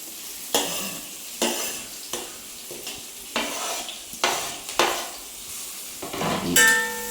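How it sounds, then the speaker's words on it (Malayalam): Chopped onions and green chillies frying in coconut oil in a pan, soft sizzling broken by repeated stirring scrapes of a spoon against the pan, with a light metallic clink near the end. "നമ്മൾ അരിഞ്ഞ് വെച്ചിരിക്കുന്ന സവാളയും പച്ചമുളകും കൂടി അതിനകത്തേക്ക് ഇടാം."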